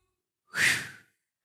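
A fitness trainer exhales once, a single breathy rush of air about half a second long during a leg and glute exercise rep, close to the microphone and alone.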